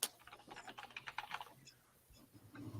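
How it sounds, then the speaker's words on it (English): Computer keyboard typing: quick, uneven bursts of light clicks close to the mic, thinning out after a second and a half, then a low soft rumble near the end, with no talk. "I love listening to the little keyboard click away as you're making those polls."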